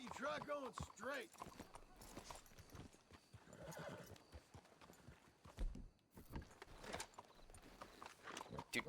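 Rhythmic hoof clip-clops of a trotting horse in the video game Red Dead Redemption 2, with a whinny near the start and voices talking intermittently over the hoofbeats.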